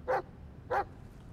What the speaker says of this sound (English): Because now you're barking.